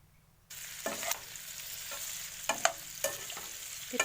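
Pork cooking in a covered pot with its fat rendering out, a steady sizzle that starts abruptly and is broken by several sharp pops and clatters, no talking.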